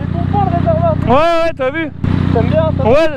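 A 2020 Kawasaki ZX6R 636 sport bike with 130 horsepower, ridden in traffic, drones with a steady low engine hum and rises in pitch as it revs, heard throughout under near, continuous conversation between riders.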